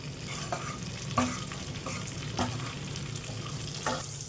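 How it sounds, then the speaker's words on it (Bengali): Dry red chillies and mustard seeds temper in hot oil for a green-tomato masoor dal, giving a steady close sizzle with several sharp stirring knocks and pops and no talking. "তেলটা গরম হলে শুকনো লঙ্কা আর সর্ষে ফোড়ন দিচ্ছি"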